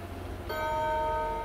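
A Japanese clock chime strikes once at half past, a bright ringing tone that starts abruptly and sustains, near and clear.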